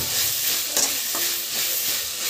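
Dried fish curry sautéing in a pan, a steady bright sizzle of frying with occasional scraping and clinking of a spoon stirring, close and continuous with no talk.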